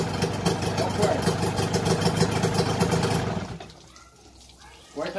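A 1995 Mariner 25 hp outboard engine running loud and close with a steady mid-pitched drone, then cut abruptly by the kill switch, dropping to near quiet; someone speaks over it.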